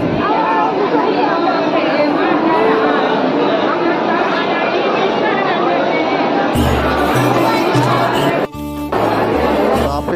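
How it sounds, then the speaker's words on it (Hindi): Dense crowd chatter at Rajrappa temple, many voices blending into a loud continuous babble close around, with a brief drop near the end. "आज बहुत ही ज्यादा भीड़ है, देख सकते हैं यहाँ पे बहुत ही ज्यादा भीड़ है।"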